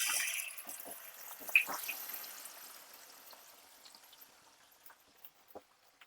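Marinated mutton for rezala dropped into hot oil tempered with whole spices and bay leaves in a pan: a loud hissing sizzle at first that gradually fades to a gentle simmer with scattered pops and crackles, no talking.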